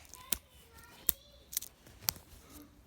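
Sharp, separate plastic clacks from a handheld fidget toy, four distinct clicks spaced about half a second apart, close and fairly quiet against a soft room background.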